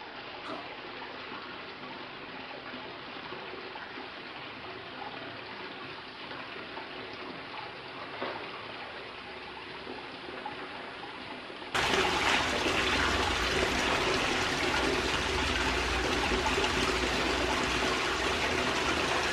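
Water rushes steadily through a gold sluice box at a gem mine in Marion, North Carolina, then the flow swells abruptly into a louder, fuller gush for the rest of the stretch.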